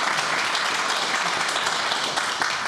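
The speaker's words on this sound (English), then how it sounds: "How about a round of applause for our" Audience at an evening community conversation event applauding, a thick, loud, continuous burst of clapping with faint voices mixed in.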